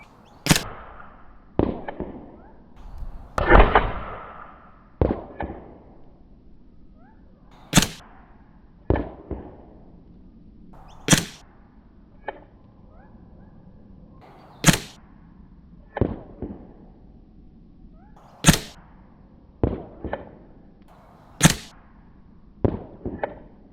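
An APS Shark CO2 gel blaster pistol fired outdoors, sharp crisp pops at irregular intervals, roughly a dozen and a half single shots with a brief rapid burst early on, each standing alone over quiet background.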